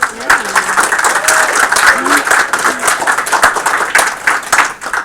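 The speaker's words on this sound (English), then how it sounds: "So again, a round of applause to everybody who's been involved in the studio." A room applauds a game studio team at a build review, with steady, fairly close clapping and a few voices calling out over it.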